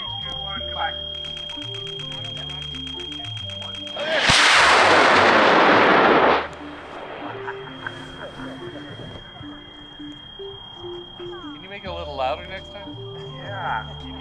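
A model rocket motor ignites on the launch pad with a sudden, loud, roaring hiss that lasts about two seconds before cutting off, heard after a spoken countdown, with voices and a steady electronic tone around it.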